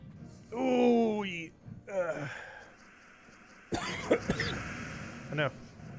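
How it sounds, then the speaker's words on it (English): Someone voices a groaning throat sound, then gives a few harsh coughs and throat clearings at close range indoors during a gaming session. "Better not be getting a cough."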